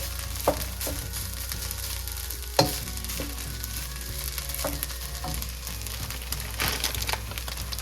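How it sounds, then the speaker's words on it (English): Fried rice ingredients sauté in a hot pan, a continuous loud sizzle broken by several sharp scrapes and clacks from stirring. "And I'll saute everything together there."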